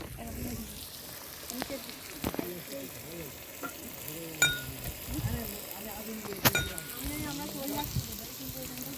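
Potatoes sizzle in a pan on a boat on a river, with scraping stirs and occasional metallic clinks while people talk nearby throughout.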